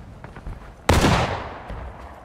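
A musket volley in the American Civil War game War of Rights: one sharp loud crack from many muskets firing together, trailing into a long rolling echo, with no talk.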